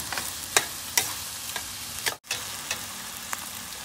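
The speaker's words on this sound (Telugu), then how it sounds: "తర్వాత వేగుతున్నాయి కదా, కొంచెం వేగనిచ్చిన తర్వాత రొయ్యలు వేద్దాం।" Sliced onions and gongura leaves fry in a pan for a shrimp curry, giving an even sizzle broken by regular light ticks and taps of a spoon, with one brief dropout near the middle.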